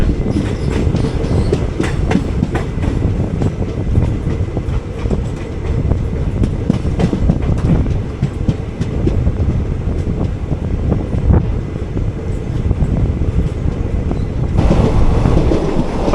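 An express summer special train runs on a single-line track, with a loud, continuous rumble, rapid clickety-clack of wheels over rail joints and wind rushing past throughout.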